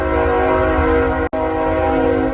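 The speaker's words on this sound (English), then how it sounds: "The train's honking its horn." A train near a beach sounds a long, loud, steady horn blast that breaks off for an instant and then resumes, filling the whole stretch at close range.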